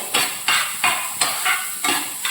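Spices and urad dal dry-roasting in a pan for sambar. A spoon stirs them in quick, regular rhythmic scrapes, about seven strokes close up, with no talking.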